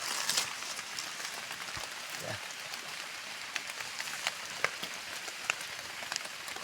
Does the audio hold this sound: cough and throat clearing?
no